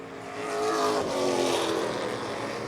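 Race cars roar past on a track while working through lap traffic, engines swelling loudly as they pass close and then fading.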